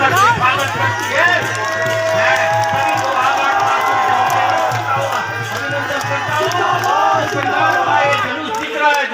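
Crowd at a civic election rally for a chief minister in Lohaghat, Champawat, Uttarakhand, cheering and clapping in welcome, a loud continuous roar of voices and shouts with a steady low hum underneath.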